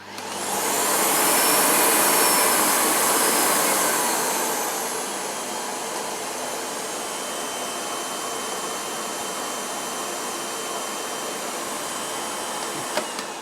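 A Miele S8 UniQ vacuum cleaner runs on its minimum power setting, a loud, close, steady whining hum that eases down slightly after the first few seconds and then holds even, ending with a small click.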